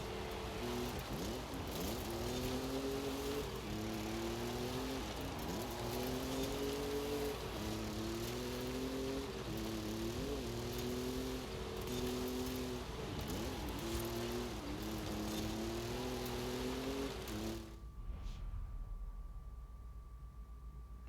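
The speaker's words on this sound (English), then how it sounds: "I think I was hearing somebody's car outside." A car engine drones outside, pitch rising and falling in repeated revving cycles, fairly loud, then cutting off abruptly near the end.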